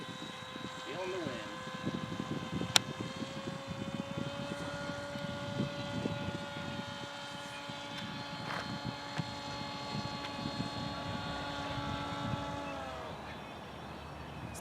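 A 68-inch Storm Chaser RC model plane makes a low pass with a steady, droning propeller tone at moderate distance, then the throttle cuts and the note drops away near the end, with people talking beneath it.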